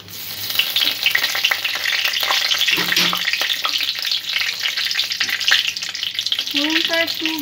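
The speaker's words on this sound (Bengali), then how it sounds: "ফোড়নটা একটু ভেজে নেব সামান্য।" Whole spices (dry red chili, cinnamon, cloves, cardamom and bay leaf) fry in hot oil for tempering, giving a steady close crackling sizzle with a few stirring scrapes throughout.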